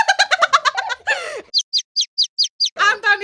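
A child imitates a chick with a quick run of about seven high, evenly spaced peeps, set between bursts of giggling and chattering voices.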